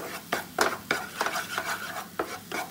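A spoon stirs banana and makhana halwa in a pan after cardamom powder goes in, making soft, close scraping and mixing strokes repeated in an uneven rhythm with a faint sizzle beneath.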